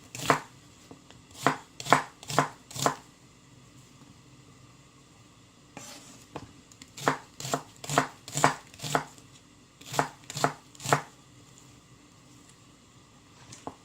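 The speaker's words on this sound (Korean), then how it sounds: "양파 작은 거 한 개 썰어줍니다." A knife chops a small onion on a board for kimchi stew, in two bursts of crisp, evenly paced close chops, about five then a longer run of around ten, separated by a quiet pause.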